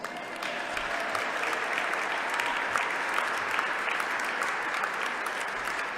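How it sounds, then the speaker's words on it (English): Sustained applause from a large holiday crowd at the Wisconsin Capitol tree lighting, honoring the Hatters of UW-Madison, a steady dense roar of many hands that holds evenly loud throughout. "Well, I think they deserve some more applause."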